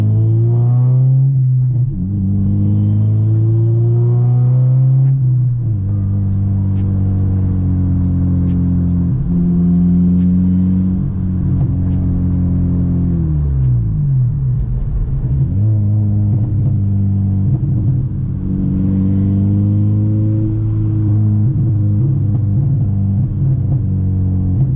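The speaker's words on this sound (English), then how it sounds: "But them pops going crazy right now." A K24-powered Honda Civic Si drives at night with its exhaust droning loudly and steadily, the engine pitch rising and falling through shifts and easing off, with faint crackles on lift-off.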